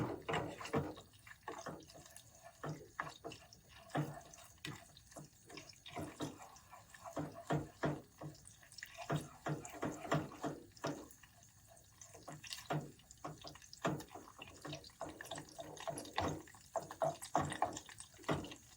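A little water is poured into a tomato paste and butter sauce in a pan, heard as close, uneven bursts of splashing and sizzling that start and stop repeatedly.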